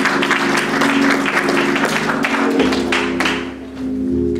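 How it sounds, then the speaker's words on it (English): A church congregation at a Sabbath service claps for its young people: a lively burst of applause over a sustained low tonal hum, easing down slightly near the end. "Let's give our young people a round hand of applause."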